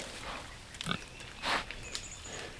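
Pigs grunt in a few short, faint snorts against a noisy background, with a louder burst in the middle.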